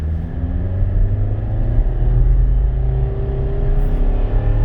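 A 2011 Nissan Rogue SV AWD with a CVT accelerating hard from a stop at full throttle, heard from inside the cabin as a loud, steady low engine drone and rising whir that holds for several seconds.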